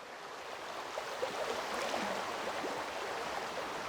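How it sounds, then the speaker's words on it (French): Steady outdoor water flow in nature, a continuous broadband rush like a stream, moderately quiet and even throughout with no voices. "Rien que le fait d'entendre le bruit de l'eau, le calme"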